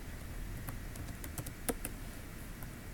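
Keys clack on a computer keyboard in a quiet room, with irregular, fairly faint taps and a few sharper keystrokes spread across the moment.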